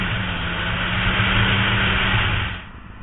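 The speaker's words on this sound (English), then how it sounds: "if you can hear me over all the engine noise now" A loud Honda CB900F motorcycle engine drones steadily with a rough, muffled roar, then drops away near the end.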